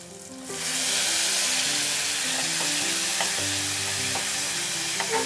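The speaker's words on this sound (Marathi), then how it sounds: "टोमॅटो आणि डाळ हे सगळं परतूया." Tomato and cooked dal, spiced with cumin powder and red chili, are sautéed in a pan, giving a loud, unbroken sizzle with faint stirring ticks and soft music beneath.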